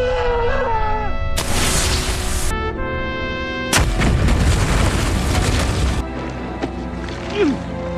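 Booming blasts from a grenade attack in the war film Snipers, two loud sustained explosions breaking over a dramatic music score.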